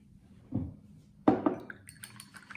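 A few brief watery splashes and clinks as a watercolour paintbrush is swished in a small container of water, with light drips trailing off.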